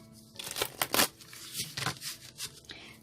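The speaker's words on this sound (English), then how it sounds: "One more shuffle, they told me." Tarot cards are shuffled in several quick riffling bursts, papery and close, with no talking.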